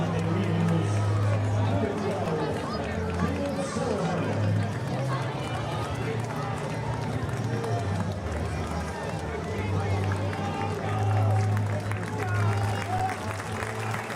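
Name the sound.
crowd applauding at a high school baseball game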